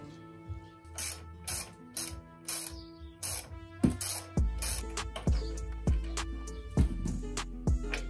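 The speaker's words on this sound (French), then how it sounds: "Je vais enlever les deux amortisseurs" A ratchet clicks in quick bursts while shock absorbers are taken off a Peugeot 103 moped, close and loud, followed by heavier metallic knocks and clanks from the parts.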